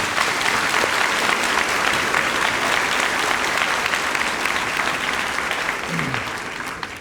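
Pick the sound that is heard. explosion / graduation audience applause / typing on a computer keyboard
graduation audience applause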